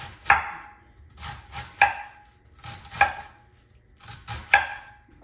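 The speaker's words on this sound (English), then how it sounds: "Now I'm just going to cut this way, long way, kind of into thinner strips like." A knife slices cabbage into thin strips on a cutting board, giving several separate crisp chopping strokes in a loose rhythm, close and clear with no talking.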